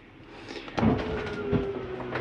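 Slide-outs on a Jayflight SLX 237RBS RV retract with a low motor whir and grinding hum, punctuated by a couple of clunks as the rooms move in, fairly quiet and close.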